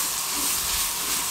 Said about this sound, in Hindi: इस तरीके से इसमें शामिल कर देंगे और इसको मीडियम फ्लेम पे 2 से 3 मिनट अच्छे तरीके से इस तरीके से पका लेंगे